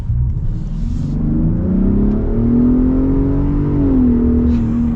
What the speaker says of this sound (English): so we can get an actual acceleration here with the Raptor